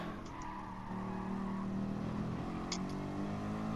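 A race car on an out lap in GT Sport, its engine droning steadily and close with a brief tire squeal, loud and continuous with no talk.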